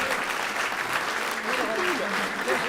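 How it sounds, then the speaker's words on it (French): An audience at a game-show segment of a 2009 harmony concert claps in a dense, steady burst of applause, with a voice talking over the clapping. "Allez, on les applaudit."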